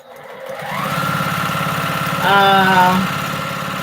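A sewing machine used for free motion quilting runs steadily and close by, its motor whirring with a fast rhythmic needle clatter that speeds up briefly partway through.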